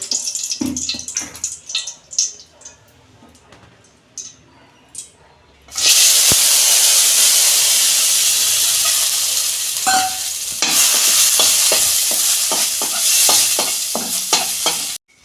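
Cashews frying in ghee in a kadai, a loud, bright, continuous sizzle that bursts in after some quieter clatter and stirring, close and alone, with a brief dip before resuming.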